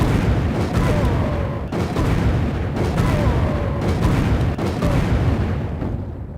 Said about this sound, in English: So, 6 explosive rounds for the Big Man Majini.